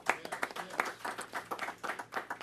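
An audience claps at a New York City school event, scattered and fairly faint, the handclaps continuing steadily for a couple of seconds.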